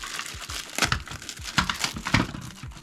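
Packaging for a Tamiya Hotshot II model kit being torn open, close crinkly bursts of crumpling and ripping plastic or paper in an irregular rhythm over about three seconds.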